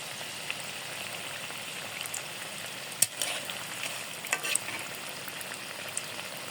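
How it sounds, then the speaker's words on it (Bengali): Dragon fruit and potato chops fry in oil over low heat, giving a steady, dense sizzling hiss throughout, with a few faint utensil taps and clicks near the pan. "হালকা জালে ভেজে নেব"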